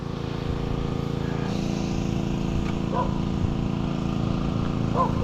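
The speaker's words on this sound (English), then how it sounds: "There's a guy power washing his deck here." A pressure washer cleans a wooden deck nearby, giving a steady, continuous drone throughout with no breaks, while faint brief chirps rise above it.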